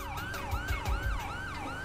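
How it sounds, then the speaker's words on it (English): A police siren in GTA V with the LSPDFR police mod wails in a fast, repeating rise-and-fall cycle, loud and close, alongside a low rumbling vehicle engine. "get away from that siren"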